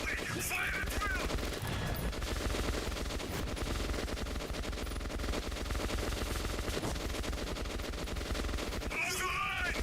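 Dense, sustained gunfire from a firefight in the Metro 2033 Redux video game, with continuous rattling automatic bursts and booming shots filling the whole stretch at a steady, loud level, and faint voices mixed underneath.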